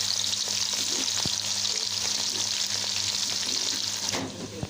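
Garlic fries in hot oil for mango pickle, a loud, continuous close-up sizzle with occasional soft stirring taps, steady throughout.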